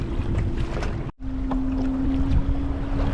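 Cold wind at sea buffets a kayak during sea bass fishing, making a steady, blustery rumble across the microphone with a faint humming tone and a brief dropout partway through.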